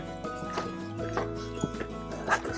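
Hooves of a horse moving at a canter in an arena, giving a steady run of soft thuds and clip-clops at medium distance with some background noise.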